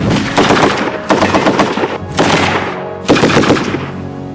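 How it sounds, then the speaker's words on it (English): A Bren light machine gun fires in four loud, close bursts of rapid automatic shots, each burst separated by a short pause, with no voices. "Even though Great Britain stopped producing the Bren in 1971, it is still considered the finest light machine gun ever made."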